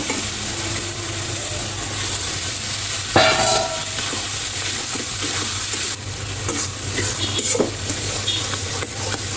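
Brain frying in a spiced tomato masala sizzles and hisses continuously in a pan while being stirred, a loud close crackle with a few sharper scrapes and spatters.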